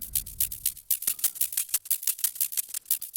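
Bright, processed hi-hats, split to their high-frequency band, tick in a quick, rhythmic pattern with a filtered, effected texture, playing alone.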